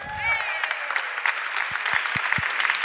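An audience gives speaker Bill Watkin a big warm round of applause at an education event: dense, steady clapping from a crowd runs throughout, with a voice briefly heard at the start.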